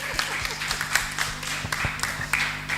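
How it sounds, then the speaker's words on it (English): Audience applause at the Aquaculture Ghana 2025 conference, a steady patter of many hands clapping in a hall, moderately loud and sustained with scattered sharper claps throughout. "Please give her a round of applause."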